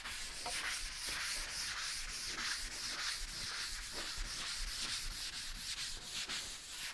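Steady, continuous light sanding by hand on oiled wood with two coats of finishing oil, a soft gritty rubbing with rhythmic back-and-forth strokes, close and unbroken throughout.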